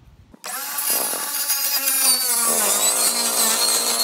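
Power saw cutting a board for a large rabbit hutch, a loud close whining buzz that starts abruptly and rings steadily for several seconds as the blade bites through the wood, with no talking.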